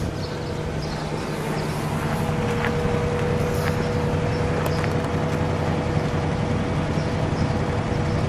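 A 1969 Imperial LeBaron two-door with a 440 cubic-inch V8 idles steadily nearby, a continuous low rumble with a smooth, even drone and no revving.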